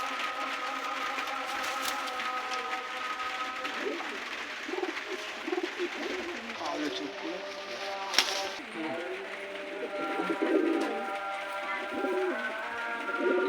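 Pigeons of the Malwai breed, kept for sale, coo and call steadily through the clip, with someone talking over them and a faint mechanical whir in the background.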